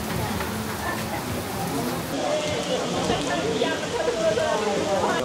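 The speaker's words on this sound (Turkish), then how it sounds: "Feci bir şekilde yağmur yağıyor şu anda." Heavy rain pours down steadily in Miami in a dense, continuous hiss, close and loud throughout, with no distinct voices standing out.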